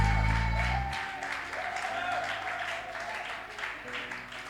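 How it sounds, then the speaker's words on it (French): A church congregation breaks into applause, dense clapping from a crowd filling the room, with voices and cheering mixed in, steady for several seconds after a loud opening moment. "est-ce qu'on peut acclamer?"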